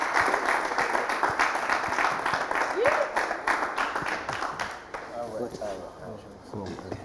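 An audience at a televised show applauds André Eugène Ilboudo, a radio director, with sustained dense clapping that thins toward the end as voices come in.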